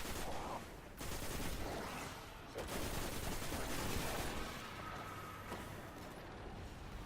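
A Dead Orbit Extremophile 011 auto rifle in a video game fires in rapid sustained bursts, loud and dense, with brief pauses between volleys.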